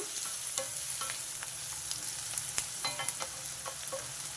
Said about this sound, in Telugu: ఇదంతా కొంచెం కలపాలి.